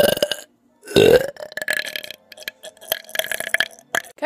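A loud, drawn-out human burp rumbles up in a long voiced belch, preceded and followed by short vocal sounds and breathy noises close to the microphone.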